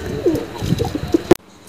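A female tournament pigeon gives a few soft, low coos close by over faint background noise, ending abruptly.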